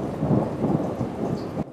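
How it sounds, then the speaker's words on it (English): A deep, rolling rumble of thunder from a lightning strike during a thunderstorm in Rathdrum, heard loud and close, with rain hissing steadily beneath it until it cuts off abruptly. "an impressive lightning strike in Rathdrum"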